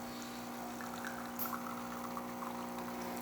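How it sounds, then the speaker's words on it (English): Espresso streams from a Gaggia machine's spouts into a cup, a soft continuous pour over the machine's steady pump hum, with a few brief gurgles and hisses. "we have a nice beautiful flow coming out of the machine, excellent color as well"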